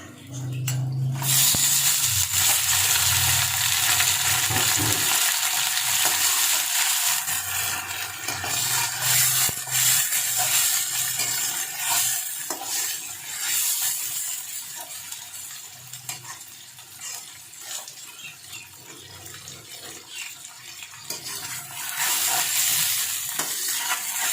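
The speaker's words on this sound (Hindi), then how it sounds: "इसमें हम अब चिकन डालेंगे।" Chicken frying with browned onions in a kadai, a loud steady sizzle with stirring and scraping throughout, a brief voice near the start.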